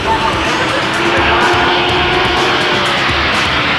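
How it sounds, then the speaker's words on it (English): Suzuki GSX-R 1100 race motorcycles roar down a track's back straight at over 150 mph, a loud continuous high-speed engine drone with a constant, unbroken wash of sound throughout. "The 1100 stream around for the first lap and rip down the back straightaway at over 150 miles an hour"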